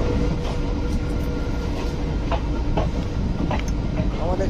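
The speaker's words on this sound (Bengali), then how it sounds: "আমাদের ট্রেন এসে পৌঁছালো বোলপুর শান্তিনিকেতন স্টেশনে।" Train pulling into Bolpur Shantiniketan station on the Kanchenjunga Express, with a continuous rumble of rail wagons, occasional metallic clicks and squeals, and a loud, close presence throughout.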